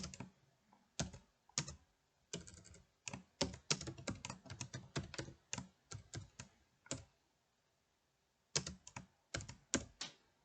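Code being typed on a computer keyboard during a Java window-programming lesson: bursts of rapid, close key clicks in uneven runs with a clear pause before a final burst, no talking.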